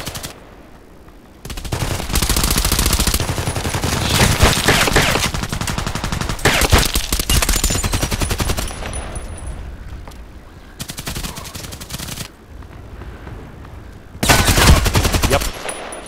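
Suppressed H&K MP5SD6 submachine gun fire in the online shooter Contract Wars: several rapid bursts of shots separated by short pauses, loud and close, with game ambience between them.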